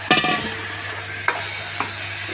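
Tomatoes tipped into a pan of frying onions for a Tamil vada kulambu, giving a brief burst of sizzling and stirring at the start, then a steady low fry with a couple of soft spoon scrapes; no talk.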